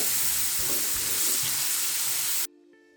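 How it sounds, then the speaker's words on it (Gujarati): Finely chopped onion sautés in a hot pan for a spinach and cashew curry, giving a steady close sizzle and crackle that cuts off abruptly near the end. "હવે આપણે એમાં ઝીણો સમારેલો એક કાંદો એડ કરીએ છે, એને પણ સાતળી લઈએ."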